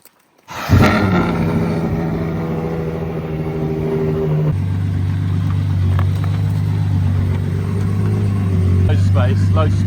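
A Ferrari engine starts abruptly and roars loudly, settling into a deep, steady idle and low rumble as the car is edged out of a driveway, close by and continuous.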